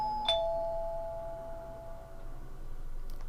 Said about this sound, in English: And then the doorbell rang again.